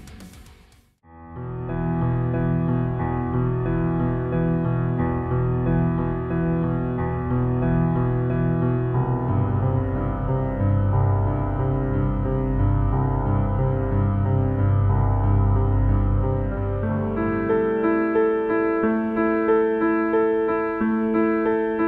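Computer-generated piano music with a bass line alternating between notes seven and twelve keys above the root, sustained chords ringing continuously and changing harmony a few times, no talking.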